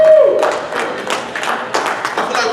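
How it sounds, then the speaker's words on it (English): Audience applause at a stand-up comedy show for the dads in the crowd, a dense burst of clapping that fills the room and carries on steadily for a couple of seconds. "Give yourself a round of applause"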